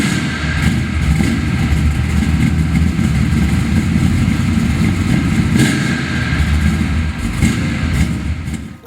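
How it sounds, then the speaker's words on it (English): A 1956 Chevrolet Corvette with a high-revving, high-compression 400 cubic inch V8 in NASCAR Winston Cup trim runs close by, a loud, steady throaty roar with slight rises in revs and no speech. "It's a high revving, high compression motor, and it sounds amazing."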